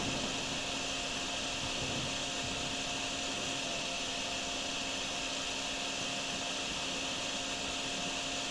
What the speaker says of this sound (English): We'll get it with this vacuum, I tell you what.